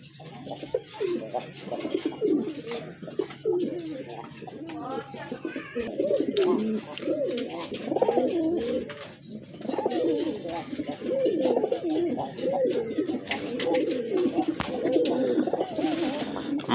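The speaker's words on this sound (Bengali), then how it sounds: "কবুতর দেখেন কতটা অ্যাক্টিভ" Many domestic pigeons, local and foreign breeds kept for sale, cooing busily and overlapping in a continuous close chorus, with scattered wing flutters and clicks.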